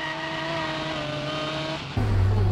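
A Toyota AE86 on a demonstration drift run through corners one and two, engine holding a steady high-revving drone that shifts abruptly to a louder, deeper roar near the end.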